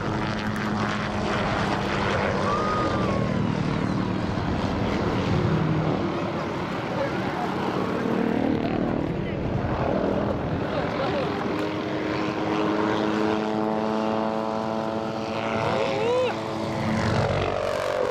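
A propeller aircraft roars continuously at an air show at Kisarazu, pulling up and reversing into a figure-eight turn, with a loud, steady engine drone and shifting pitch as it passes, heard alone.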